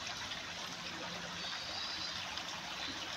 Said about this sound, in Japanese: 水の音がたまらんね。